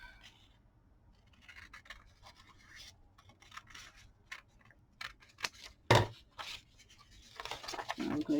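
Scissors snip paper for a junk journal, a scattered series of quiet, crisp cuts and small scratchy rustles, with one louder close snip partway through.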